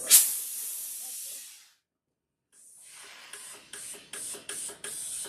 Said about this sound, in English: I'm going to add some steam because I really want this to be flat